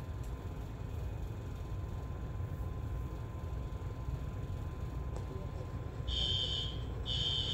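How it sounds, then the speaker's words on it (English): A high electronic school fire alarm tone sounds in two pulses near the end over a steady background rumble, with faint voices underneath. "Okay, the fire alarm goes off,"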